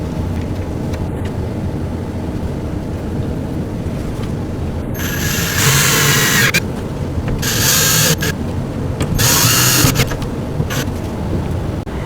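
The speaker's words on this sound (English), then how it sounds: "And then we'll screw it down in all 3 locations." A power drill drives screws into a melamine storage cubby in three bursts of whirring and ratcheting, close and steady, over a continuous low background rumble.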